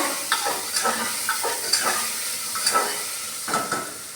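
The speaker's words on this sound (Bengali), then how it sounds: "দিয়ে দিলাম পেঁয়াজ রসুন আবার একটু নাড়বো" Onion and garlic frying in a pan while being stirred: a steady sizzling hiss broken by a series of scraping stir strokes at uneven intervals, close and moderately loud, with no talking.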